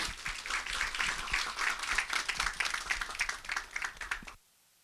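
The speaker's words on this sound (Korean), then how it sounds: "박수로 맞이해 주시기 바랍니다." An audience at a peace forum claps steadily to welcome a speaker, a moderately loud wash of applause lasting a few seconds before cutting off abruptly to silence.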